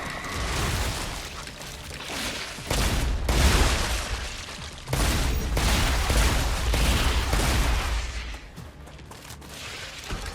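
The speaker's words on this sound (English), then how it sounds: "that shotgun is doing the job" Shotgun fire in the StarRupture video game: loud, dense broadband blasts in clustered bursts over roughly ten seconds, with brief dips between volleys and a low rumbling bed throughout.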